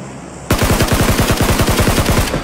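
Rapid automatic gunfire in the mobile shooter Peacekeeper Elite, a loud, close burst of around twenty evenly spaced shots starting abruptly and running almost two seconds, no talking.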